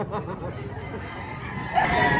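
A gamefowl rooster at a Padre Garcia game farm gives a short crow, close and fairly loud, over a low murmur of voices and background noise.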